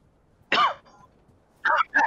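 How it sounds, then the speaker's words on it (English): One sharp cough, a brief pause, then two quick coughs close together, close and clear against a quiet background. "Wow, there's a cough, there's some sickness going on."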